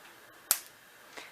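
A thoroughly dried slice of blanched, dehydrated potato for hash browns snaps once with a sharp, loud, close crack, followed by a fainter second crackle about a second later, with no talk.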